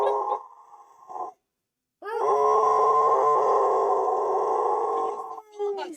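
A husky lets out a short, wavering vocal, falls silent, then holds a long, sustained howl with grunting, groaning edges, close and loud, ending in a brief falling yowl.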